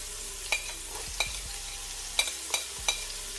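Pimento peppers, hot pepper, garlic and onion sizzle steadily in a pan, with a few sharp clicks of a utensil scraping and stirring close by, no voices.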